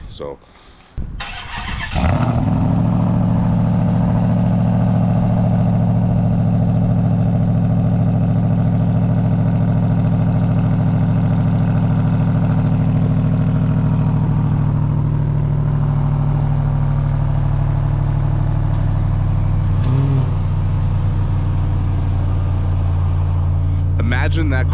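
Cold start of a supercharged 5.0 Range Rover engine fitted with a resonator: a brief crank catches into a loud, steady low idle that holds throughout, with a short blip near the end and a single spoken word at the start.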